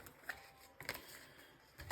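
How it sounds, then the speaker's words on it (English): Oracle cards being shuffled by hand, a few soft papery riffles and taps spaced apart, quiet and close, without speech. "I'm going to keep shuffling though"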